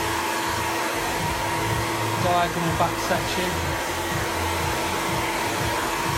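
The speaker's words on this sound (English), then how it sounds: "Be careful so you don't get the hair sucked up in the dryer." Hair dryer blowing steadily while a curly layered bob haircut is being styled, a constant loud whoosh running the whole time with brief speech over it.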